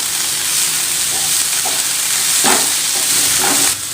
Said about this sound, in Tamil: முருங்கைக்கீரை கொஞ்சம் வதங்கட்டும்.